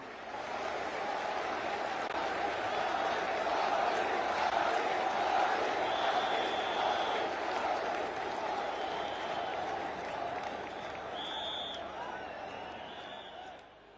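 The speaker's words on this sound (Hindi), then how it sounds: "बजाइए ताली और बुलाइए माननीय प्रधानमंत्री जी को।" A large crowd claps and cheers to welcome the Prime Minister at the Mahakal corridor event in Ujjain, a loud continuous roar of applause with shouts and whistles mixed in.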